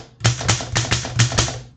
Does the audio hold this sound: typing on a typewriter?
yes